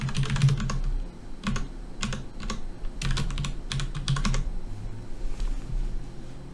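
Fingers tap steadily on a computer keyboard while someone enters case data into folders, with bursts of quick keystrokes, brief pauses between them and no talking over the close, clear clicking.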